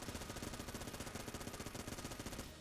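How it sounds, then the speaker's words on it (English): Rapid, continuous Vulcan cannon fire from the video game Enter the Gungeon, a dense, evenly pulsing stream of shots lasting nearly three seconds before cutting off, loud and with no voice over it. "good thing we had the Vulcan cannon"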